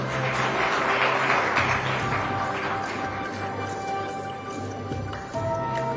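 An audience at a large conference in Mumbai applauds, a dense, sustained wash of many hands clapping together that stays fairly even before thinning slightly toward the end.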